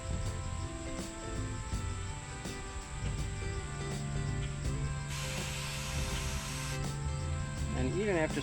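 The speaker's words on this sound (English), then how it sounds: "You kind of pull it up and just spray it off." Spray bottle hissing solution off window tint film on a 2019 Mustang GT in repeated bursts, close by, with a faint mechanical ratcheting underneath.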